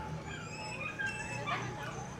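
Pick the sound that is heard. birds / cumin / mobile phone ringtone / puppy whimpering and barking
puppy whimpering and barking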